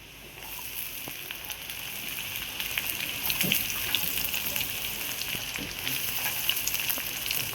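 Chopped onion frying in a hot kadhai with curry leaves and garlic, a steady broadband sizzle with faint crackles running throughout, with no talking.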